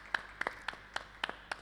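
A church congregation at a children's service claps in a slow, steady rhythm: six sharp, evenly spaced claps about a quarter second apart, faint against a quiet room.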